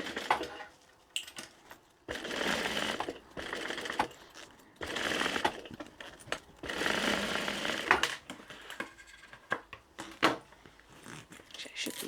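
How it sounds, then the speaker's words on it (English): A domestic sewing machine stitches fabric with blue cotton thread in several bursts of rapid mechanical whirring, each lasting a second or two and separated by short pauses and small handling clicks. "So we're just going to sew down there."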